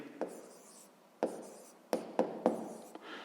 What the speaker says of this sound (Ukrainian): Так само записуємо, пишемо дріб